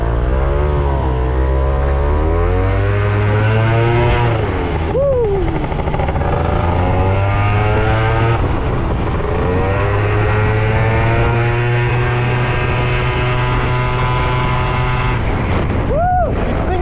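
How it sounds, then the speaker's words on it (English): An Italjet Dragster 180 scooter with Malossi parts revs on rollers while its brakes are bedded in, a loud, close engine drone rising and falling in pitch through repeated throttle sweeps with sharp brief dips. "Brakes need some more bedding in, so that's what I'm doing now."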